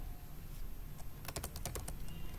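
A burst of quick keystrokes on a computer keyboard enters data into an Excel entry form, faint and close over a low room hum, with a few scattered taps before it.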